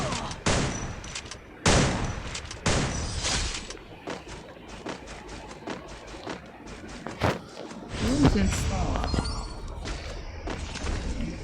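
Bursts of MP5 gunfire in the Free Fire mobile video game, with loud shots followed by a long run of rapid, quieter cracks, plus thuds, footsteps and a shattering sound from the game.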